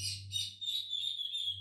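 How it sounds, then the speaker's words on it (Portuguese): A faint, continuous high chirping trill from wild birds in the surrounding trees outdoors, distant and steady over a low electrical hum. "O pessoal sempre escuta barulho de passarinho aqui nos meus vídeos"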